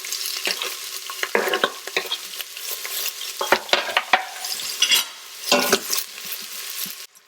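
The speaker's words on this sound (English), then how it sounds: "Add 3 slit green chilli. Add half an onion." Slit green chillies and onion are sautéed in an Instant Pot, with repeated close scraping and stirring strokes of a spatula over a light sizzle, irregular bursts separated by brief pauses.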